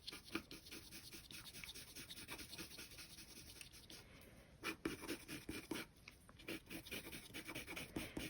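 A colored pencil strokes across paper while shading a cardinal drawing, giving soft, steady scratchy rubbing with short pauses and quicker bursts, close and faint, with no talking.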